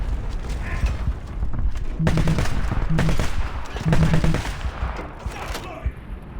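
Gunfire from a Fiat 6614 armoured vehicle in a video game: short bursts of rapid shots around the two-, three- and four-second marks over a constant rumbling battle background.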